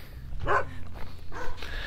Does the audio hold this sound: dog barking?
yes